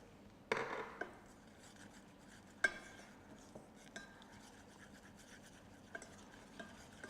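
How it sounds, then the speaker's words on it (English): A utensil stirring flour into a roux in a pan, with quiet scraping and a few sharp clinks against the pan, faint and intermittent with short pauses between strokes. "Stir it in very well."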